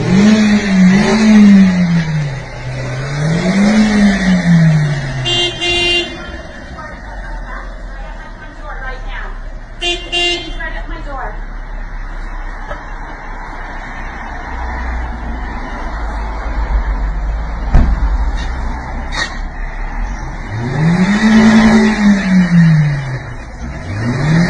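Front-wheel-drive car stuck in place, its engine revving up and down in repeated surges as the wheels spin, with people talking nearby between the bursts.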